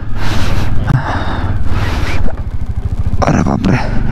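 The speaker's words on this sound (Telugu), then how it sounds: "శ్వాస బాగా ఫాస్ట్ తీసుకుంటున్నా." Fast, heavy breathing from a rider at high altitude on the Leh–Manali highway near Lachungla pass, with gasping breaths repeating over steady wind and vehicle noise.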